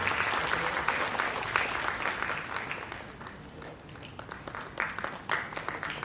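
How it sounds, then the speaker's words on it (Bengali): Loud, sustained applause from an audience at the inauguration of Rai Nattotsob 2026 in Raiganj, dense crowd clapping continuing throughout with slight swells and dips. "পরবর্তীতে জোরে করতালি চাইছি সকলের তরফে।"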